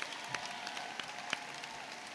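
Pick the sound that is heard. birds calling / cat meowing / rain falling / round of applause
round of applause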